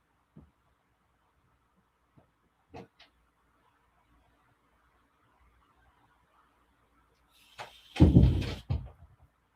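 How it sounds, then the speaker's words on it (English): A door swings shut in a quiet home at night with a loud, close thump and rustle, after a few faint, scattered knocks and shuffles. "Let me just go close the door."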